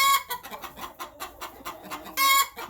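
Backyard chickens, including hens and an Easter Egger, cluck in short repeated bursts close by, with one louder, drawn-out call near the end; no talking is heard.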